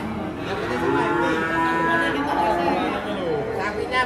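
A huge one-ton cow just unloaded from a truck lets out long, low moos, loud and near, over a continuous murmur of onlookers talking in the background.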